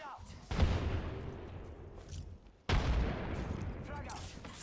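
Two heavy booming blasts from a grenade in the shooter game Apex Legends, each hitting hard and then rumbling away, with the second one coming a couple of seconds after the first.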